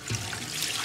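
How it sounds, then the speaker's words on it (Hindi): Water poured into a cooking pot holding chicken for egg fried rice, a short soft splashing gush heard up close with no talk. "पानी ऐड कर लेंगे इसके अंदर"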